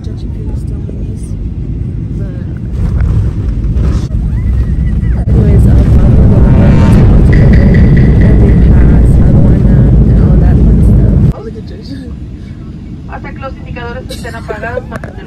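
Airplane cabin noise while landing in Querétaro, a loud steady low rumble that swells midway and then drops abruptly to a quieter hum, with faint voices near the end.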